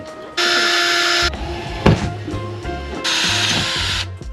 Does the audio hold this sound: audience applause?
no